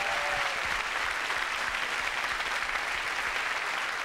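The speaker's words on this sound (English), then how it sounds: "Give my man Kid Capri a round of applause" A crowd at a Def Comedy Jam stand-up show bursts into steady, dense applause, loud and continuous throughout with no voices breaking through.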